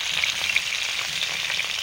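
Close, continuous sizzling of shol fish frying in shallow oil in a heavy iron kadai, a bright spitting hiss with small pops and no talking.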